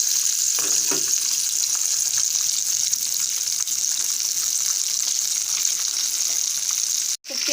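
KFC-style chicken legs sizzle steadily in hot oil over a medium-low flame, a constant close bubbling hiss that runs throughout and cuts off abruptly near the end.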